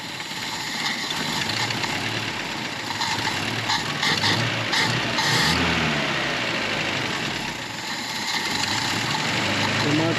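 A 1971 Datsun 521 pickup engine idles unevenly with a steady rumble and some mechanical clatter, heard up close while a person talks over it.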